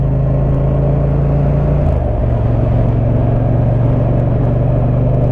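Yamaha MT-07 motorcycle with an Akrapovic 2-in-1 carbon exhaust, a loud, deep continuous engine drone whose pitch drops then holds steady, heard close with no speech.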